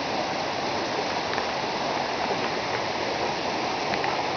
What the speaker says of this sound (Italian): Si sente il rumore dell'acqua, del torrentello.